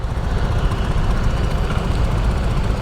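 A motor scooter engine fitted with 11-gram rollers runs steadily and loudly close by, a constant low rumble with no pauses and no talking.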